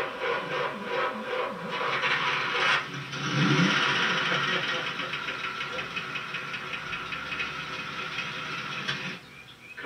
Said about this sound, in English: Gonna jump the ignition wires.